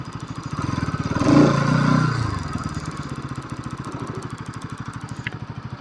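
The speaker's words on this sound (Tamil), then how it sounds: "வண்டி வருது, யூட்டன் அடிச்சிருவோம்." A 2024 Bajaj Pulsar NS 200 BS7 motorcycle idles with a steady, pulsing single-cylinder exhaust beat and swells briefly in a short rev before settling back to a throbbing idle.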